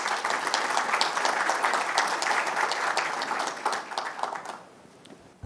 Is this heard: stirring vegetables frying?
no